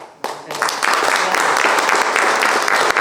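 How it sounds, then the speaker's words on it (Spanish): Applause for a speaker after a talk begins abruptly from near quiet, quickly swelling into loud, sustained clapping with distinct individual claps audible, voices faintly underneath. "Fuerte el aplauso"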